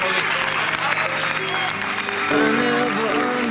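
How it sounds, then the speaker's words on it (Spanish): Applause from a crowd of guests right after a wedding couple is declared married, steady and fairly loud throughout, with music starting underneath partway through. "Y los demás podemos aplaudir."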